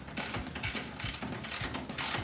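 A hand ratchet snugs the mounting bolts on a 2016-2023 Toyota Tacoma projector headlight, clicking in rapid close bursts, four quick strokes in a row.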